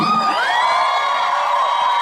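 Concert audience at a singer's national tour show shouting, whooping and cheering loudly together in a sustained, dense wall of crowd noise with high-pitched screams.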